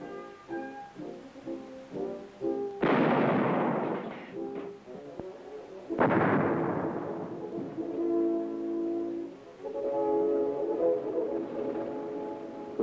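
Artillery guns fire live rounds during Taiwanese military training, with two loud booming blasts a few seconds apart, each followed by a long rumbling decay over lower mechanical droning.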